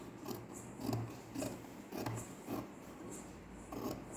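Scissors cutting through fabric close to the stitched neckline of a ready-made garment, trimming it off: a quiet series of regular rasping snips, roughly one every half second.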